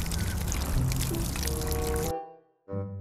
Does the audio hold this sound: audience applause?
no